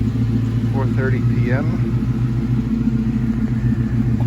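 A gold Ford Mustang's 2-valve 4.6-litre V8 idles steadily with a deep, continuous low rumble throughout, while a person speaks briefly over it near the start.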